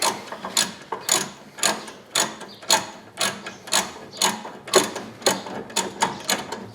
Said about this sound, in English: You do want to make sure that you have that socket squarely over the head of that bolt.